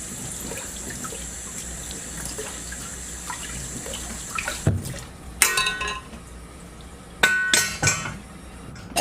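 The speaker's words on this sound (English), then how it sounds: "I'm gonna rinse this just to be safe and sure." An item rinsed under a running kitchen tap, a steady hiss of water followed by sharp clatters and knocks of the object against the sink, with no talking.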